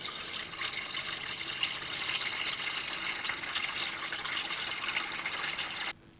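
Water running steadily from the drain of a seized engine's oil pan on an abandoned 4x4 Blazer, a continuous broadband splashing gush that holds for about six seconds before cutting off abruptly.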